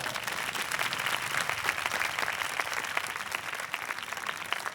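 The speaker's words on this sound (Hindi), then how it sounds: "अपने लिए जोरदार तालियां बजाएं।" A church congregation at a parish in Karachi breaks into loud, sustained applause, many hands clapping close together in a steady roar with no speech over it.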